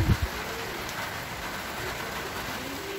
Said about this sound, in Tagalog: dahil sa sobrang sama ng panahon, sa medyo malakas yung ulan